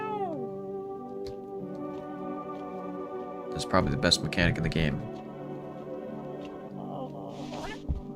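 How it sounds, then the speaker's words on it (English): A cat in a video game meows, first a falling drawn-out meow and then a couple of shorter mews, while someone talks over part of it and a faint musical tone sits in the background. "Kitty! Let me pet you."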